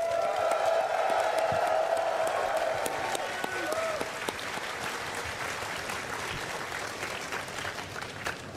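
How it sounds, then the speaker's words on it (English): An audience at a gaming convention presentation claps steadily in sustained applause, dense and even, with a few whoops early on before it slowly thins. "So a round of applause again"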